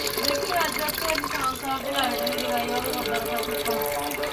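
Water running and gushing from a tap into a container, filling steadily for washing clothes, with a person talking over the flow throughout.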